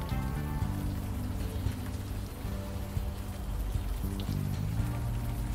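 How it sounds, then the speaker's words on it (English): Steady rain pours continuously in a video game, a dense hiss that fills the whole stretch at an even level, with low tonal game sounds layered underneath. "If you guys want to do any more chatting in the rain, feel free."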